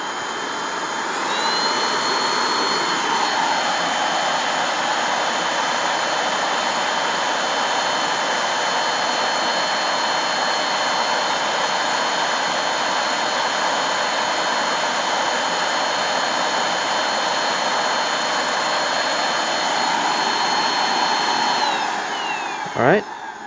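An APOSEN H20-4 vacuum cleaner runs at high speed, a loud steady whooshing roar with a high whine that holds for about twenty seconds before it cuts off abruptly at the end.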